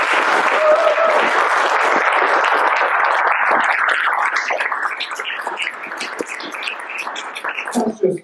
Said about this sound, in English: And you can give him a round of applause.